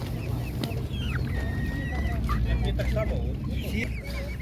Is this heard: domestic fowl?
yes